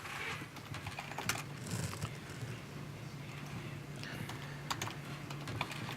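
Rapid typing on a computer keyboard during a live financial trading broadcast, with scattered clicky keystrokes over a steady low hum and no talking.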